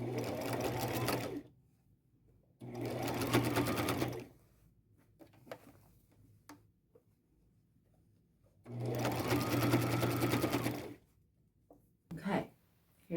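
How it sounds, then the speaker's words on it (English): A sewing machine stitches trim onto a plain white shirt in three long whirring runs separated by pauses, with faint handling noises between, close and fairly quiet. "I might be able to just sew kind of straight on"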